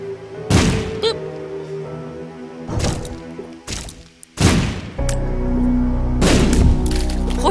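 Bombs go off in The Binding of Isaac, four loud, sharp booms spaced a second or two apart, each decaying quickly against game music, with no talking.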